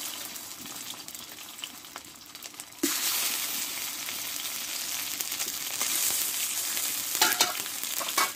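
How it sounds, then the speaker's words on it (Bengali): Semolina-stuffed tiffin snacks fry in hot oil with a loud, continuous crackling sizzle that jumps sharply in intensity partway through and keeps bubbling steadily, close up with no talking. "বাকি টিফিনগুলো একইভাবে ভেজে নেব আমি"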